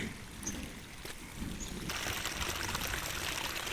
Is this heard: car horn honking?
no